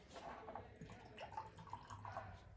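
Water is poured in during a chemistry class demonstration on ionic substances, a faint, close run of small drips and gurgles with a soft liquid trickle, no voices.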